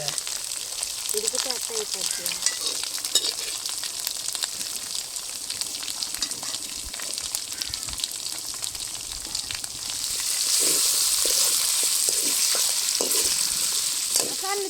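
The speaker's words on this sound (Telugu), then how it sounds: "ముందుగా ఉడికించి పెట్టుకున్న చికెన్ని మసాలా వేస్తున్నాం" Pre-cooked chicken sizzles with masala in a pan, a steady crackling fry with occasional stirring scrapes that grows louder and hissier near the end.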